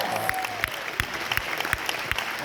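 Comic con crowd in Liverpool applauding and cheering, a dense wash of clapping with a few sharper claps standing out, steady and fairly loud throughout.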